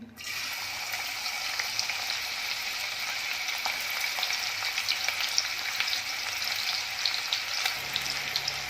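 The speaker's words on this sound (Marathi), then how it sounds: "त्याच्यामध्ये एक बारीक चिरलेला कांदा घालून घेणार आहे" Finely chopped onion sizzles in oil in a pot, a continuous bright frying crackle with occasional stirring scrapes, heard up close without talk.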